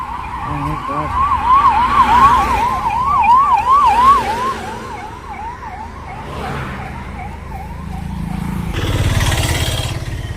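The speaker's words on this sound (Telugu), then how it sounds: "ఏంది ఇన్ని అంబులెన్స్లో వెళ్తున్నాయి" An ambulance siren wails in a steady rising-and-falling pattern as it passes, loud at first, then fading under road noise and passing traffic.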